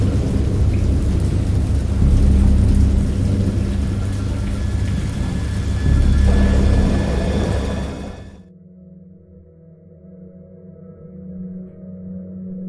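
Heavy rain pours down with deep rolling thunder rumbling beneath it, loud and continuous, before the downpour suddenly cuts away to a low, dull hum.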